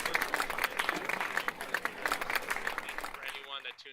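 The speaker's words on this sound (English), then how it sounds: "One more applause" An audience applauds a guest artist, a dense patter of clapping with a few voices mixed in, fairly steady then fading out at the end.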